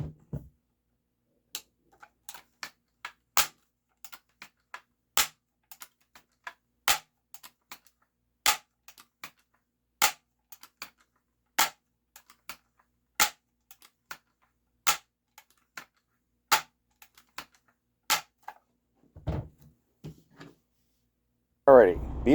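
A Daisy SG22 air rifle firing pellets, a series of sharp, isolated cracks spaced a second or so apart against near silence, with faint handling sounds toward the end.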